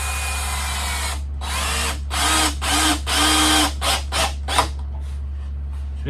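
A power drill drives screws into wood while building a small 1/64 scale wooden farm shop, with several loud whirring bursts of varying length, shorter ones toward the end, over a steady low hum.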